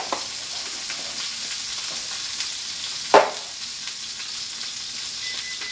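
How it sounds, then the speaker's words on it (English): Butter foaming in a hot pan while a chateaubriand is being cooked gives a steady, soft frying sizzle that runs throughout, with one brief sharp crackle partway through. "I'm going to go in right now with all this butter. And it's immediately going to start to kind of foam."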